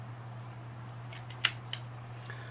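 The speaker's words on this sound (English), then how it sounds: "I'll better come in with the ratcheting pruners." Ratcheting pruners cut a buckthorn or linden bonsai branch with one sharp crisp snap, then a lighter click, heard close over a steady low hum.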